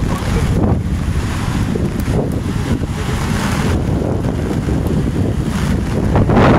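Strong wind roars and buffets the microphone without pause, a loud, rushing gusty noise that fills the whole stretch.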